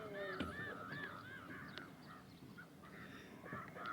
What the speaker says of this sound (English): You can hear the birds over there, the flamingos.